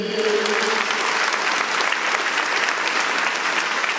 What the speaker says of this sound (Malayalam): നമുക്ക് ഒറ്റക്കെട്ടായിട്ടൊന്ന് കൈയടിച്ച് പ്രഖ്യാപിച്ചേ